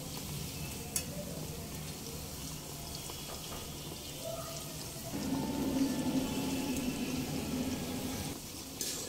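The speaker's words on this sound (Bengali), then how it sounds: "এইভাবে উল্টে পাল্টে একটু ক্রিস্পি করে ভেজে নেব পকোড়াগুলো।" Chicken pakoras fry in oil over a medium flame, a close, continuous sizzle that grows louder and denser halfway through as the pieces are turned.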